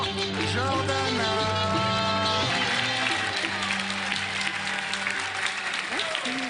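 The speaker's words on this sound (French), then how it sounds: "Je pense qu'on peut y aller et applaudir très fort Jordana" An audience applauds Jordana on a television show, with continuous loud clapping mixed with music and voices throughout.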